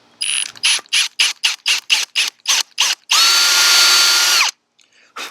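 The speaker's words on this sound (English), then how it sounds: "we're going to drill it out a little bit more" A power drill whirs in a rapid series of short bursts into a Schrade SC90B switchblade knife handle, then runs in one long, steady high-pitched whine before cutting off, close and loud.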